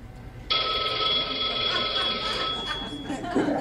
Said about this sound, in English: We're just going to ring them up real quick, get it on speaker, see what we get, hope for the best.